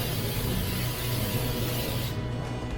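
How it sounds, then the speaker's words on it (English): Cooking spray hisses steadily from a can into an 8 by 11 casserole dish, a continuous close, even spray lasting a couple of seconds before cutting off abruptly. "I'm going to take some cooking spray."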